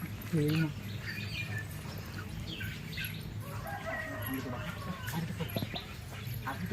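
Small chickens give short chirps and peeping calls with a brief louder call near the start, over a low background murmur that may include voices.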